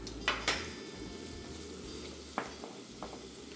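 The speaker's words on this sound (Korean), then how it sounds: "팬에 버터를 먼저 녹여주시고요." Butter melting in a frying pan gives a faint, steady sizzle close by, broken by a few light clinks of utensils against the pan, with no voices.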